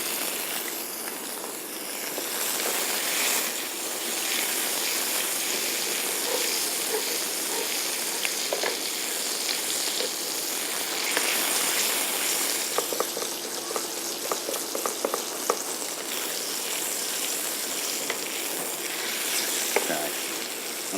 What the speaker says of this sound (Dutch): Ik bak meestal in olie.